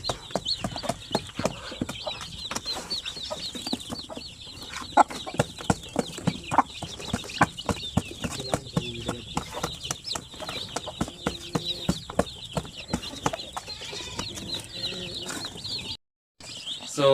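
A hen clucks steadily while many chicks peep in a constant high chorus, with scratching and pecking noises throughout, fairly close.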